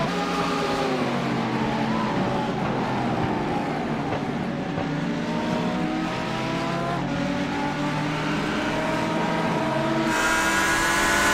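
Grand touring race cars screaming around a track, layered engine whines climbing and dropping through the gears for several seconds, loud and continuous, one car passing close near the end.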